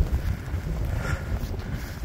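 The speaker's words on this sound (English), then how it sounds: "Feels like a blizzard out here." Blustery wind buffets the microphone in a low, rumbling rush during a blizzard in deep snow, steady and close throughout.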